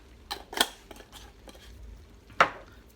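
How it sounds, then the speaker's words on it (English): A spoon stirs chili mac seasoned with smoked paprika in a pot, giving a few close metallic clinks and scrapes against the pan, one sharp knock near the start and another near the end, with no one talking. "Give it another stir."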